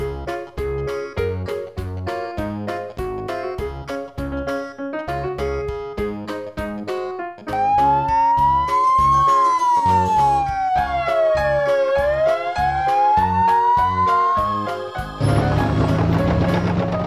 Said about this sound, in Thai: รถพยาบาล ambulance